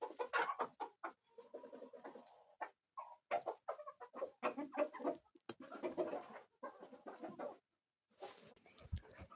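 Hens cluck and squawk inside a backyard coop with wooden nesting boxes, a busy run of close, overlapping calls with brief pauses between them, loud and clear with no talk.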